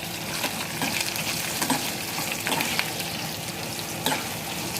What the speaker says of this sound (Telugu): జీడిపప్పు, ఎండుమిరపకాయలు, పచ్చిమిర్చి, అల్లం ముక్కలు వేసేసుకొని కొంచెం వేగనిద్దాం.